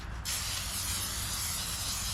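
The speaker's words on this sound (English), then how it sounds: "I'm going to spray it with some vegetable oil." Vegetable oil cooking spray hisses from a can onto a pan before frying pond bass fillets, a single steady close spray lasting about two seconds, starting abruptly after a brief quiet moment.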